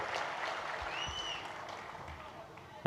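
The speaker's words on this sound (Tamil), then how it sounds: "ஜீசஸ் என பெயர் வைத்த அந்த பெரிய மனிதருக்கு மீண்டும் ஒரு கைத்தட்டல்" Steady applause from a crowd, a continuous wash of clapping with a faint whistle-like tone drifting through the middle.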